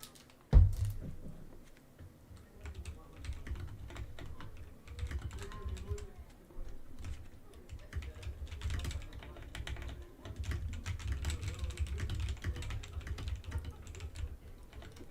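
Fast, uneven clacking of a computer keyboard close to the mic, with bursts of rapid keystrokes and brief pauses, going on throughout.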